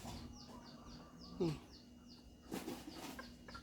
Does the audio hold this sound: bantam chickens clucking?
yes